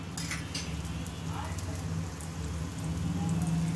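Parotta fries on a hot griddle with coconut oil, a steady soft sizzling hiss running throughout over a low hum, with a few faint clicks.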